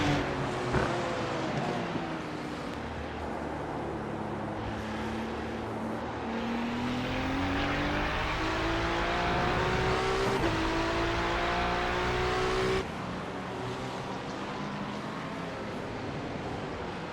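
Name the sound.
Porsche race car driving on track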